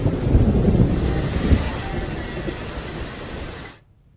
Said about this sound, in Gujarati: અનેક વિસ્તારોમાં પવન સાથે ધોધમાર વરસાદ વરસી રહ્યો છે